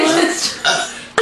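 Loud, close burps during a casual burping competition, one long rumbling belch followed by two short sharp ones, with voices joining in among them.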